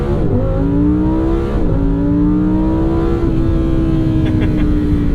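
A 2023 Lamborghini Huracan Sterrato accelerates back up to speed on a road. The engine pulls loudly and steadily from inside the car, with its pitch climbing through two quick upshifts.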